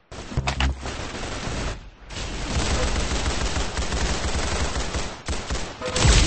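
Dense, sustained gunfire from a shooting video game, a loud continuous barrage of overlapping shots with a brief lull near two seconds and another near five, close and dominant with no talk.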